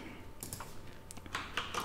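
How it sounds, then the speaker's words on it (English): Keys tapped on a computer keyboard to enter a shortcut, several quick close clicks in an uneven cluster, heard faintly over a quiet background. "if we type"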